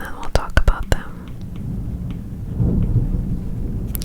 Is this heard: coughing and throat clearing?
no